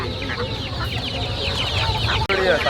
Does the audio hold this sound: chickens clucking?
yes